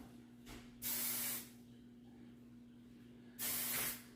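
Two short bursts of hair spray hiss, about half a second each, separated by a few seconds of quiet room tone with a low steady hum.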